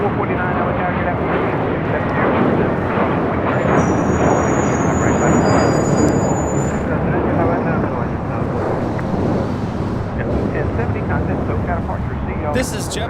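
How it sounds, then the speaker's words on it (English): A JetBlue Airways A321 jet taking off from LAX, a loud broad roar of engines dominating throughout with wind buffeting, a brief high tone partway through and a voice talking over it. "This is JetBlue Airways Flight 1070 taking off to Fort Lauderdale on an A321."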